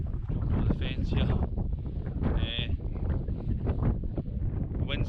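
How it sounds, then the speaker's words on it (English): Wind buffets the microphone on an open hill ridge in the Campsies, a continuous low rumbling roar with gusty swells. A voice murmurs faintly beneath the noise. "The wind's kind of died down here, so hopefully you can hear me a bit better."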